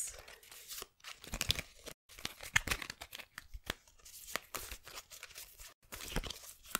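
Cards riffle and crinkle in quick uneven bursts with short pauses, close and fairly quiet, with no voices.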